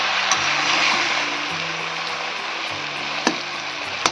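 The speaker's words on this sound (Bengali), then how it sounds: "কিন্তু গ্যাস কমিয়ে রেখে কষাচ্ছি।" Hog plum pickle mixture sautéing in a pan over a low gas flame gives a steady, close sizzle, with a few light clicks of stirring.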